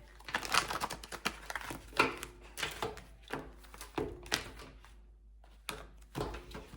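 Tarot cards are shuffled in bursts of crisp riffling and tapping, loud and close, with short pauses between the bursts and no speech.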